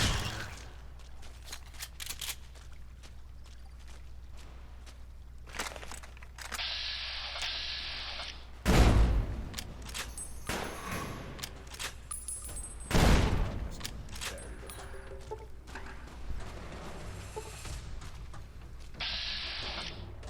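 Gunfire and explosions in Fallout: New Vegas during an NCR playthrough, with a rapid crackle of shots and two heavy booming blasts standing out over continuous battle noise.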